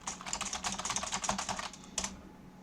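Fingers type on a computer keyboard in a quick run of close, crisp key clicks, a brief pause, then a final keystroke, with no talking.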